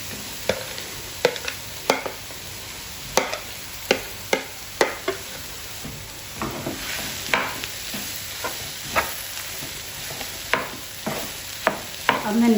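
Boiled potatoes tumble into a hot pan of onions and are stirred, a string of sharp scraping and clattering strokes over a steady background sizzle, with no talking.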